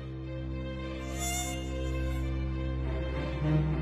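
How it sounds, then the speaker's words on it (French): A mosquito's thin, steady whine hums close by, a faint continuous buzz that swells slightly near the end. "Le moustique, un insecte sournois qui vient hanter nos nuits"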